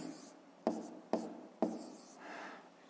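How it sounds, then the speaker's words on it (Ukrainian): A pen writes numbers down for a fifth-grade math exercise, heard as three sharp scratchy strokes on paper followed by a softer rubbing stroke, close and quiet with no talk. "Давайте я спочатку запишу"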